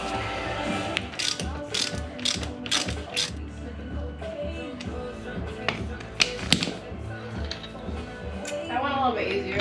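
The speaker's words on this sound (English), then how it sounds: "undo the bolt, and then put the new bolt in" A ratchet working on a leaf spring bolt of a 2017 Toyota Tacoma, giving several quick bursts of rapid clicking close by, separated by pauses, with quiet talk and handling noises between.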